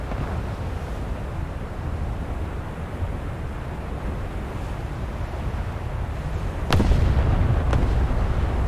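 Two sharp, loud gunshots about a second apart in the video game Arizona Grind, cracking out over a constant low rumbling background noise, with no voices.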